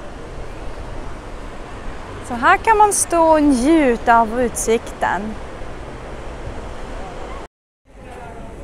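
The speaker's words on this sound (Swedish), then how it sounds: "Det är jätteskönt när det blåser. Frisk luft från havet." Wind blows off the sea on an outing in Tarragona, Spain, as a soft, steady rushing hiss beneath a person speaking in the foreground. The wind cuts out briefly near the end.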